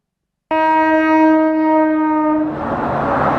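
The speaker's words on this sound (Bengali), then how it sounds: "মালগাড়ি গেলে পরে তারপরে গেট উঠবে" A freight train at a railway level crossing sounds a loud, close horn blast for about two seconds, then its heavy rumbling roar takes over as it rolls past. No one speaks.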